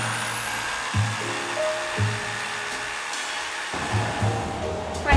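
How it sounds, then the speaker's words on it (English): A jigsaw cuts a plywood subfloor inside a Ford Transit van conversion, giving a continuous close buzzing whir with small periodic surges as the blade works through the board. "I guess they'll just let anybody use a jigsaw nowadays."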